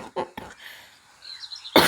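A person coughs in short, harsh bursts: two close together near the start and one more at the end, with faint murmuring in between.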